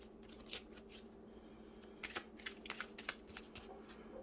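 Romance angels oracle cards being shuffled, a quiet run of soft papery riffles and flicks that come in short bursts and grow busier toward the end.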